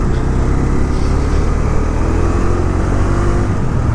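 A Bajaj Dominar 250 motorcycle engine, said to have a chain tensioner fault, runs close up with a steady, loud idle drone and a mechanical rattle, no voices.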